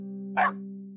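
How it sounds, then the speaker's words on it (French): A single short bark from an old man's grumpy dog in an animated Christmas tale, loud and close over a steady background hum. "le chien du vieil homme se mit à aboyer."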